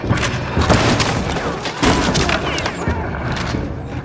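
Rapid bursts of gunfire in the video game Little Nightmares II, booming, thudding shots layered over each other, loud and continuous with little pause.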